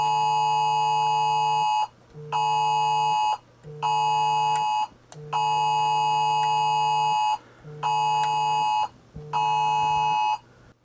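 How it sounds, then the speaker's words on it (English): A national emergency practice alarm sounds as a loud electronic tone pulsing on and off in regular long blasts separated by short gaps, heard indoors in a repair workshop. "that is the National Emergency Practice Alarm"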